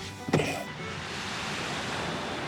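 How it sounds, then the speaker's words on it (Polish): Ocean surf rolls in as a steady, even wash of broadband noise, with one brief thump near the start and no voices. "Może usłyszycie jeszcze szum oceanu."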